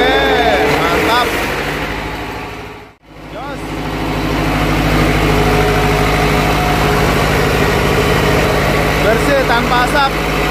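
A Yanmar open-frame diesel generator cranks and catches after a brief hush, then settles into a loud, steady, rumbling idle that runs on close by.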